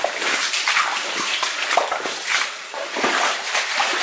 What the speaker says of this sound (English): I hear some rushing water ahead.